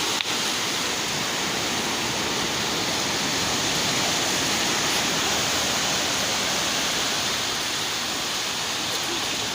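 Heavy sea waves after a storm surge onto a coastal shore and road, a steady, dense roar of surf close by and loud throughout with no distinct breaks.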